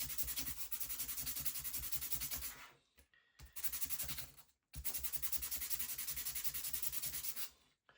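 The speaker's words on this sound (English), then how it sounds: "just do that sanding motion" Steady back-and-forth rasp of a wooden wheel being rubbed on sandpaper, two long sustained bursts separated by brief pauses, close and fairly loud.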